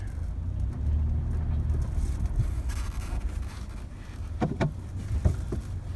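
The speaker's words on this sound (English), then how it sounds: "Driving of the car." A 2019 Toyota Prado SUV drives along with a steady low rumble of engine and road noise plus some wind buffeting, and a few brief knocks near the end.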